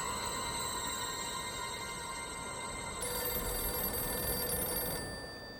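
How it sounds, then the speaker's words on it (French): A telephone rings in the middle of the night, its bell-like trilling ringtone repeating steadily at moderate volume with no speech. "décroche le téléphone en pleine nuit"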